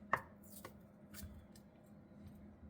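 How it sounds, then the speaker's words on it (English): A knife slicing through a block of Spam into even pieces for breakfast, with a couple of sharp cutting strokes near the start followed by quieter scraping and handling noises, close and fairly soft. "try and cut it into 8 even slices"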